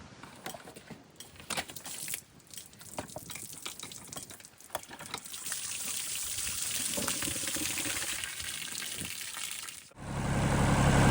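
Water drains from the lower radiator hose of a John Deere 2150 tractor being flushed of grease and oil, a steady pouring and trickling that swells louder partway through before a brief cutoff and a final gush.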